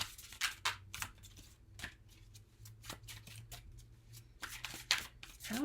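Tarot cards being shuffled by hand, repeated riffling and flicking bursts spaced through the clip, close and fairly quiet with no speech.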